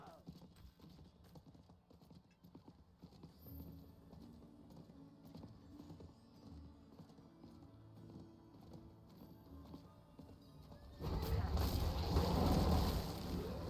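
Horse hooves clip-clopping in Diablo while playing a Werebear Druid, a faint steady trotting rhythm under game ambience, with a sudden loud burst of noise near the end and voices talking.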